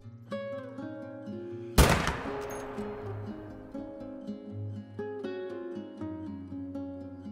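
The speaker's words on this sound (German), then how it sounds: "Ich werde es aber jetzt mal schießen." A rifle shot at a red deer in theHunter: Call of the Wild cracks out as one sharp, loud report with a long rolling echo, set against a quiet backdrop of soft tonal ambient music.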